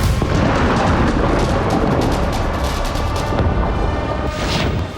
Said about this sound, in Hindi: विस्फोट पर विस्फोट होते गए।